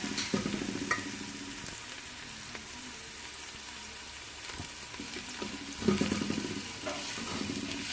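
Onions frying gently in ghee or oil for kadhi pakora: a faint, low sizzle with occasional soft crackles and stirring sounds, quiet and continuous.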